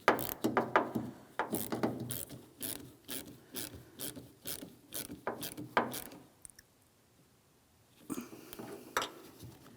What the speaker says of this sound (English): we're going to make sure we tighten our 10mm mounting nut, securing this terminal to the battery